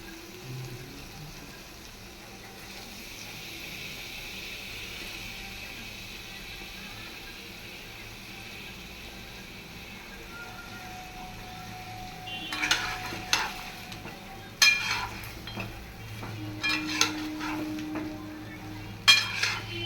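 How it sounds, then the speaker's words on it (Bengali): Fish frying in oil in a pan, starting as a faint steady sizzle and then giving way to clattering utensil scrapes and stirring knocks against the pan, no talking. "একটু তেল দিচ্ছি এবং তেল লাগে দিতেই হবে এবার মাছগুলো দিয়ে দিচ্ছি দেখুন"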